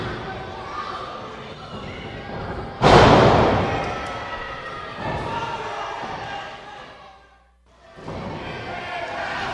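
A professional wrestler slams hard onto the ring mat from a high back body drop, one loud heavy thud followed by a crowd murmur, with an announcer talking throughout.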